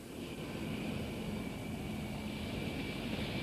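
Aircraft engine roar near an airport, a steady sustained drone with a faint high whine, continuous and fairly distant without voices.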